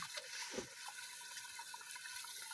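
Crabs are rinsed in water in a tub, with a continuous soft sloshing and splashing of water that stays quiet and steady throughout.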